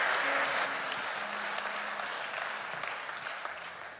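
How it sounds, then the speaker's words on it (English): A church congregation claps in praise to the Lord, a sustained wash of many hands that gradually eases off, with a faint low hum underneath. "Give the Lord a hand clap of praise."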